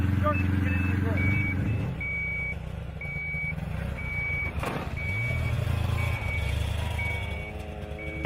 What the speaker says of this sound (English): as long as it's beeping like that